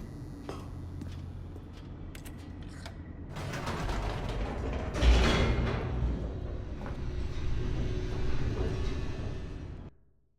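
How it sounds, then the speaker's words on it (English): A descending elevator in The Stanley Parable, heard as creaking, grinding machinery and rattling gears that swell into a loud clank midway, then rumble steadily before cutting off abruptly. "The elevator raced downward, plummeting towards an unknown fate."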